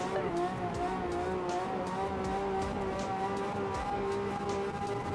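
A car in the racing game Project Motor Racing, likely a Mazda MX-5, holds a sustained high-revving engine whine with wheel spin. The sound is steady and close, and a person talks over it.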